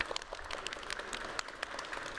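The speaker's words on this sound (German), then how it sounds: "Applaus! Applaus!" Audience at a German barista and latte art championship applauding, brisk scattered claps from a moderately sized crowd, fairly distant and even, without talk.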